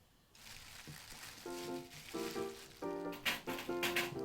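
Eggplant pieces sizzling on a grill, a steady close hiss and crackle with irregular pops, while soft tonal musical notes play over the cooking sounds.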